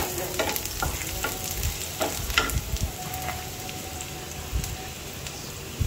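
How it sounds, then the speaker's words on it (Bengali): Blended boiled tomato going into hot frying spice paste for a red sauce pasta, giving a steady, soft sizzle with scattered stirring clicks and spatters and no talking. "পেস্টটা কিছুক্ষণ ভেজে তারপরে আমি এর মধ্যে দিব যে টমেটো, যেটা আমি সুন্দর করে সিদ্ধ করে ব্লেন্ড করে রেখেছিলাম"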